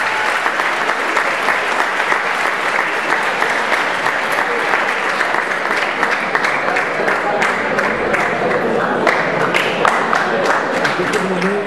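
Big, steady round of applause from an audience honoring the first graduating class of a higher technical program at IES Maria Enriquez, thick continuous clapping at strong volume with a few sharper individual claps standing out.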